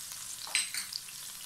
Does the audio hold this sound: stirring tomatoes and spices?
yes